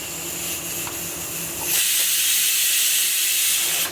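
Steady, loud sizzling of onions frying in a pan, close up, turning brighter and hissier partway through, with no voices.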